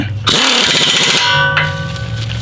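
Impact wrench driving rock slider bolts on a Jeep Wrangler JK, one loud, close burst of rapid hammering that runs for about a second, then a fading mechanical hum with a lingering whine.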